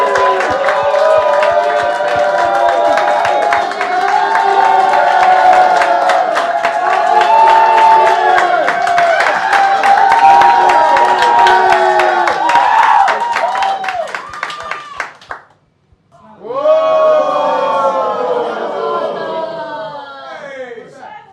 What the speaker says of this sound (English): Then clap it up right now for KC